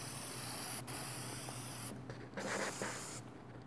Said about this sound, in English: Spray lengthwise.